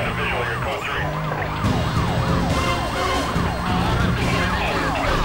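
Wailing police sirens in the Need For Speed Most Wanted racing game, several overlapping and rising and falling continuously over engine and game noise, loud and close throughout a police chase.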